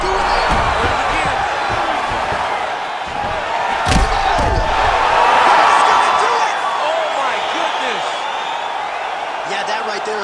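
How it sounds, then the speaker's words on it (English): Arena crowd in the video game EA Sports UFC 5 roaring and cheering after a knockout, a dense, loud swell that builds through the middle, with a sharp impact and commentary talk over it. "Crowd absolutely loving it."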